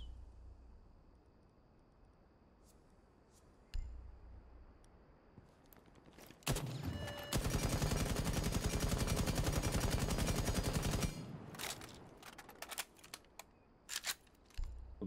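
Rapid automatic fire from an AK rifle fitted with a flash hider in Rainbow Six Siege, a loud sustained burst of about four seconds followed by scattered single shots and clicks over quiet background.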